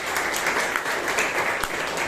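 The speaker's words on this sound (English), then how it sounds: "you can give a round of applause to our Toastmaster Shreya" Members at a Toastmasters meeting give a short burst of applause. The clapping sounds moderately close and is made of distinct, overlapping claps.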